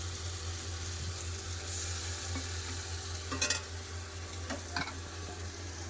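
Onion and tomato sauté in a pan with a low, steady hiss, while a few brief scrapes and knocks of a stirring utensil sound up close near the middle.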